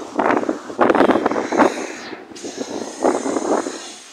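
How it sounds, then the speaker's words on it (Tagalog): Strong wind by the sea, a steady rushing roar with gusty swells and a brief lull midway, loud and close on the microphone. "Grabe yung hangin."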